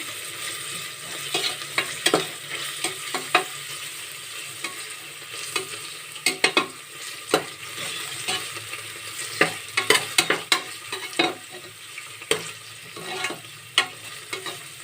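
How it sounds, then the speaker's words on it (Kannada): Vegetables being stirred in a frying pan with fresh coriander added, a steady sizzle broken by frequent scraping and clattering strokes of the spoon throughout. "ಕೊತ್ತಂಬರಿ ಸೊಪ್ಪನ್ನು ಸೇರಿಸ್ಬಿಟ್ಟು ನೀವು ಮಿಕ್ಸ್ ಮಾಡ್ಕೋಬೇಕು ಈ ಥರ"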